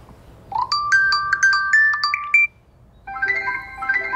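A Google Pixel phone, a Pixel 6a or Pixel 7, plays a ringtone. A bright chiming melody of rapid tones is followed by a brief pause and then a second, fuller passage, loud and clear with no talking.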